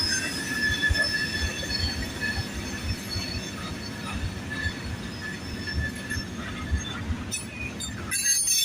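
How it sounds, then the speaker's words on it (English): A coal train led by a pair of AC4400 locomotives rolls past on the Harrisburg subdivision, its wheels squealing in loud, sustained high-pitched tones over the steady rumble of railcars, with no talk heard. "Look at that 68 coal train."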